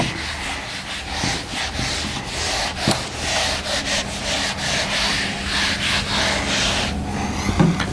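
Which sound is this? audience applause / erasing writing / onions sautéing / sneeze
erasing writing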